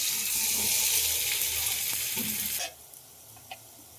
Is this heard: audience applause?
no